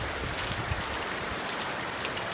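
Steady, dense heavy rainfall patters close by under a house's back overhang near the Smith River, a continuous hiss of drops striking surfaces with no pauses.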